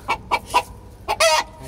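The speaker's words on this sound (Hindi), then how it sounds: "नई मुर्गियाँ आई हैं" Hens clucking up close: three short, evenly spaced clucks, a brief pause, then another cluck and a longer drawn-out squawking call, distinct and fairly loud with no talk.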